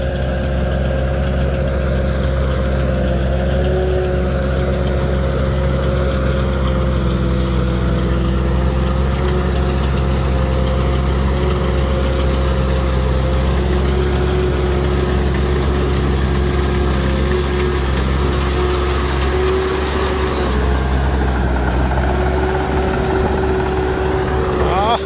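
A Tamco S9000 combine harvester fitted with an Isuzu 6HK1 diesel engine runs with a steady, continuous mechanical drone, loud and close, holding an even pitch for the whole stretch with only slight shifts near the end.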